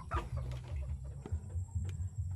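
Chickens clucking on a small backyard farm, soft repeated clucks and short calls in a steady low murmur, faint and fairly close, with no one speaking.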